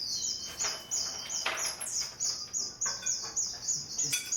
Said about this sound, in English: hearing my birds singing